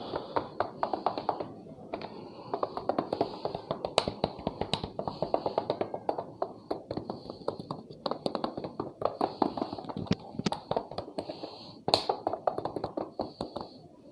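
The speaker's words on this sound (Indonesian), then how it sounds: "Ini helm biasa gue pakai. Gue tes ketok." Knuckles knock on the shell of an everyday motorcycle helmet during a comparison of Shoei, Arai, KYT and Zeus helmets, giving a long run of sharp, close taps in uneven bursts.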